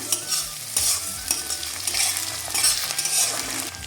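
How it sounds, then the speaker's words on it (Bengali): Whole cumin, chopped onion and garlic paste sizzle in hot oil in a pan while a spoon stirs and scrapes in quick, uneven strokes, close and clear with no talking. "ফোড়নে তেলের মধ্যে দিয়ে দিচ্ছি গোটা জিরে এবারে দিয়ে দিচ্ছি কুচানো পেঁয়াজ দিয়ে দিচ্ছি রসুন বাটা"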